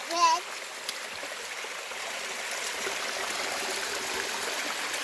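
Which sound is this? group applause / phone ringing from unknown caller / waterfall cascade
waterfall cascade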